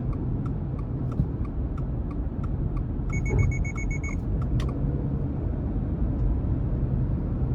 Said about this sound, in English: that was my forward collision alert already starting to brake for me